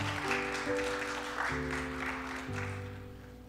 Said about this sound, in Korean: 우리 다시 한 번 더 박수하시겠습니다.